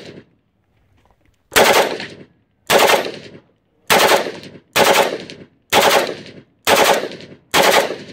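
Full-automatic gunfire fired into a shooting range berm: seven loud, close bursts of rapid shots, each lasting about half a second, separated by short pauses.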